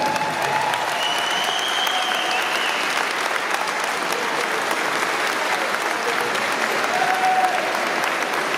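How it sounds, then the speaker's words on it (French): Steady crowd applause at a country music festival in Amiens, a dense continuous wash of clapping with faint cheers and whistles drifting through, no distinct speech. "Je crois qu'on peut les applaudir encore bien fort."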